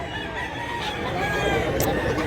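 A rooster for sale crows once in a drawn-out, strained call amid chicken clucks, heard in a busy, noisy setting.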